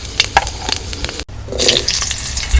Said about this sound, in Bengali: তেল গরম হয়ে গেছে ফোড়ন দিচ্ছি দুটো তেজপাতা একটা শুকনো লঙ্কা পাঁচ ফোড়ন